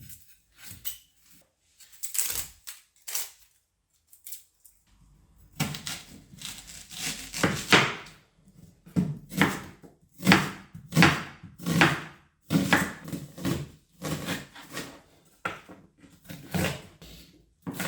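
A knife chops a large onion on a cutting board, first a few scattered cuts, then a steady run of rapid, sharp, close knocks with no talking.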